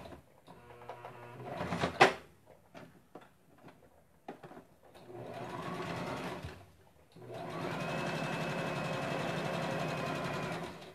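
Sewing machine stitching a handbag in bursts, with a sharp click and handling noises between runs, then a longer steady whirring backstitch, quiet and close.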